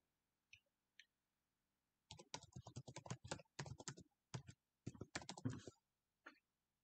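Someone types an email password on a computer keyboard: a couple of lone taps, then quick bursts of clicky keystrokes with short pauses and a final single tap, quiet and close, with no talk.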